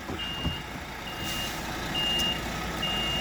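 A vehicle's reverse alarm beeps in slow, evenly spaced tones over a steady engine rumble, heard from a moderate distance.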